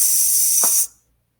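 A voice imitates a sizzle for counting half notes in rhythm practice, producing a steady, loud hissing 'sss' held for under a second before cutting off abruptly into silence.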